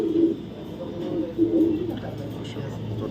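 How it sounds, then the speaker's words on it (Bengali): A male racing pigeon, a 2023 club racer, gives repeated low, rhythmic coos close by while someone talks over it. "চমৎকার একটা কবুতর বিআরপিএফসি ক্লাবের থেকে রেস করা দুই হাজার তেইশের একটা নর কবুতর"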